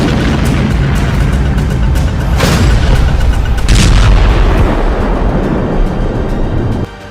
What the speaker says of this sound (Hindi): ड्रोन से दागी गई मिसाइल के धमाके से जेलेंस्की का पैलेस भी दहल गया है